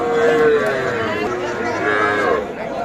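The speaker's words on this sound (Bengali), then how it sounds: "ছোট ছোট বাছুর যেখানে কেনা বেচা হচ্ছে সে জায়গা রয়েছে" Calves and young bulls low amid a busy livestock market murmur at Ambari market in Dinajpur, calls blending into steady crowd chatter and shuffling.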